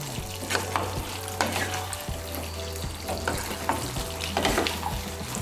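A spatula stirs boiled pumpkin, potato and pointed gourd in a pan over raised heat, giving a steady low sizzle with repeated scraping strokes and soft clinks, close and moderately loud, no talking.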